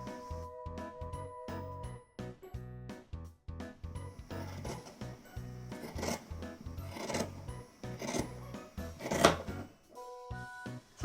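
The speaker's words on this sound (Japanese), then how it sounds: "でこれを端っこ揃えて直立ちでカットしていこうと思います" Scissors snipping and rasping through gauze fabric being cut to size, a series of close, crisp cuts with short pauses, fabric rustling and handling noises in between.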